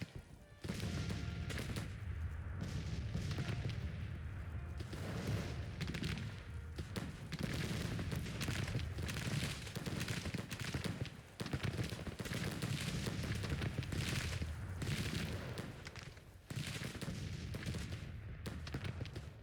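Artillery batteries and massed rifle fire boom and crackle continuously in a Civil War strategy game battle, dense overlapping volleys and cannon blasts with no pauses, fairly distant and steady.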